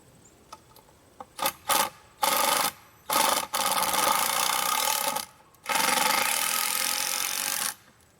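A power driver spins a screw into wood for a hunting blind and watch tower build, in several short bursts followed by two longer runs, close and fairly loud.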